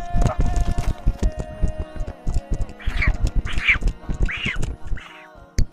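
A flock of geese gives loud, close, repeated nasal quacking calls in quick bursts, the calls bunching together in the second half.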